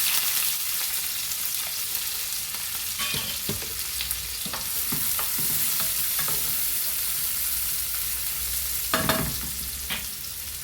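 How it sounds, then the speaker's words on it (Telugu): Onions frying in a little oil in a pan for a mixed vegetable paneer curry, a steady broadband sizzle throughout with intermittent scrapes and clicks of stirring, close and moderately loud, no talking. "కొన్ని ఉల్లిపాయలండి ఫ్రై చేసుకొని మసాలా వేసుకుందామండి"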